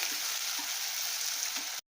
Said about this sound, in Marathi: आता टोमॅटो छान नरम होईपर्यंत मस्त परतून घेऊया